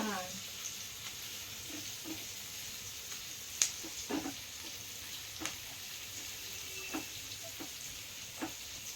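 Food fries in a pan with a quiet, continuous sizzle, punctuated by scattered soft taps and scrapes of a utensil stirring at irregular intervals.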